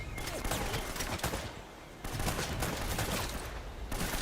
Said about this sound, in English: we can shoot them pretty easily